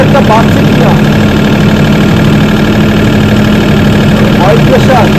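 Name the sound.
Mahindra 25 kVA diesel generator running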